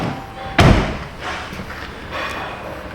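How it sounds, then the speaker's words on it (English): A 2013 Dodge Grand Caravan door slams shut with one loud, close thud, followed by quieter clicks and rattles of the latch and handle. "Let me open and close the door here."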